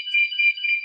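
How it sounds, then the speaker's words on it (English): An alarm beeps loudly behind a person giving a presentation, a steady high electronic tone that pulses in repeated bursts without pause. "there's an alarm going off behind me"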